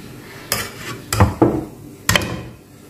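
A serving spoon scrapes and clinks against a pot and plate while tarka rice is dished out, giving four sharp separate clatters over a quiet kitchen background.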